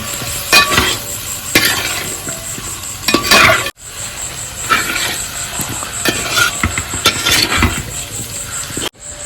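Fried chicken sizzles loudly as it is stirred into gravy in a hot pan, a spoon scraping and stirring in repeated strokes, with a brief pause partway through.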